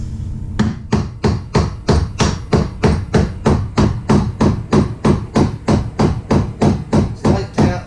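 A hammer taps a motorcycle axle through the wheel of a 2008 Suzuki GSX650F, with about twenty steady, evenly spaced strikes in a close, loud, regular rhythm.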